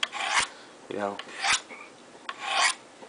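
A knife blade is drawn across the ceramic rods of a Spyderco SharpMaker in three short, raspy strokes, near and fairly quiet, with a lighter scrape between them.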